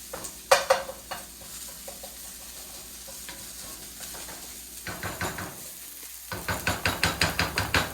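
Garlic and ginger frying in a pan for chicken tikka masala, a close hissing sizzle punctuated by rhythmic scraping strokes of a utensil, with a rapid run of stirring taps toward the end.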